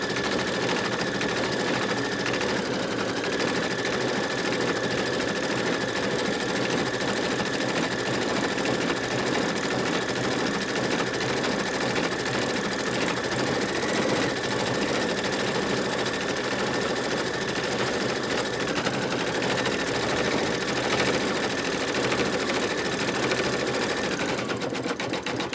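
An embroidery machine stitches a honeybee coaster in a fast, steady mechanical whir with a constant buzzing tone, close and continuous from start to finish, with no speech.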